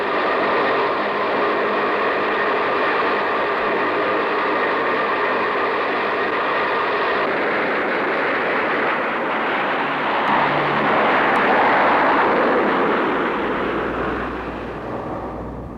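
A C-130 military transport plane takes off with a steady, broad roar that builds and swells, then fades slightly at the end. There is no talk over it.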